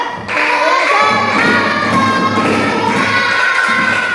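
Schoolchildren in a second-grade maths class clap together loudly in a dense, sustained burst that lasts a few seconds, with the claps blending into a continuous rattle.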